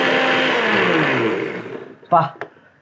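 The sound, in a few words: mixer grinder blending buttermilk drink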